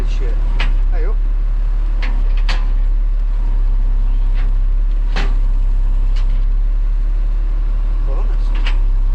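An old Tarrup straw blower driven off a tractor PTO runs on a farm, giving a loud, steady low drone with a broad rushing roar. Sharp clanks and knocks cut through now and then, and faint voices may sit underneath.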